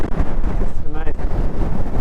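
Wind gusting over a hilltop in the Simonside Hills, Northumberland, a loud, close, continuous roar from heavy buffeting on the microphone, with a faint voice briefly underneath.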